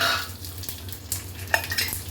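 Mustard seeds, urad dal and curry leaves crackle and sizzle in hot oil for a long bean kootu, close and steady. A few sharp pops and light stirring sounds cut through, and there is no speech.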